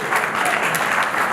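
An audience claps for a former bar association president being honoured at a ceremony for local heroes of the Covid period, producing a loud, continuous burst of applause with no talk over it.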